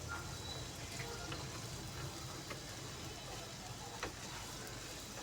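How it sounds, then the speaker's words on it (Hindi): Finely chopped onion sautés in a pan for a dhaba-style masala egg bhurji, giving a steady soft sizzle and crackle, quiet and continuous with faint occasional stirring. "तो अब हम इसको अच्छे तरीके से प्याज की बुनाई करेंगे।"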